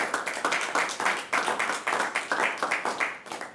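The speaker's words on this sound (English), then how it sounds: "round of applause for that, for sure" Audience clapping in a fairly steady rhythm of distinct hand-clap bursts, moderately loud and close, with no talk over it.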